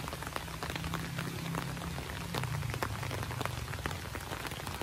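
Steady rain falls close by in the Philippines, pattering densely on surfaces with scattered sharper drips over a constant hiss, with no speech.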